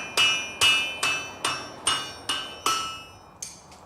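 A hammer strikes a blade on an anvil during forging: about nine sharp, ringing metallic blows in a steady rhythm, the last couple lighter and closer together, with no talking.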